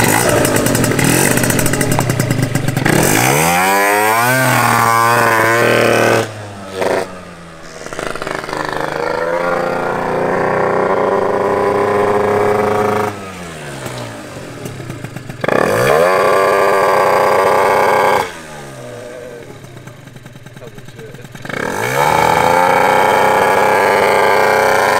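A Derby 50cc two-stroke engine runs loud and close, its raspy buzzing note repeatedly revving up and dropping back through several sweeping cycles, with short lulls where the engine sags between blips.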